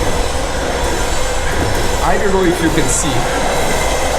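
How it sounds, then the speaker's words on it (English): A train passes close by with a loud, steady rumble and a squealing wheel whine, near an aluminium sailboat build site, while someone speaks briefly over the noise. "Yeah, that's the train."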